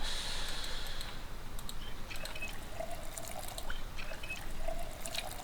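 Water trickles and pours steadily as two bottles are filled in a zombie survival video game, with light clicks and faint tones over the continuous flow.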